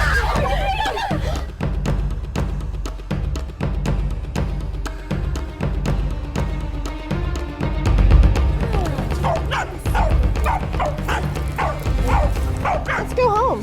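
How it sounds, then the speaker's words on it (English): A dog belonging to the Empress in an animated show barks and whimpers in short yips, mixed in with steady talking and background music. "Look, there's a dog that belongs to the Empress."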